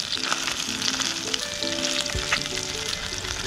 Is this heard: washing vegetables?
no